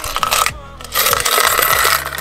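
10-yen coins are handled and jingled with metallic clinks and rubbing, continuous and close-up, with a brief pause partway through.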